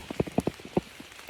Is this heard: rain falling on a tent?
yes